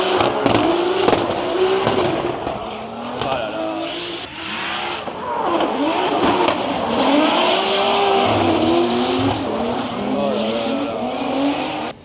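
Cars drifting in tandem on the CFD race circuit at Croix-en-Ternois, including a BMW 2 Series, with loud engines revving and tires squealing continuously, close and sustained, with a voice talking over them.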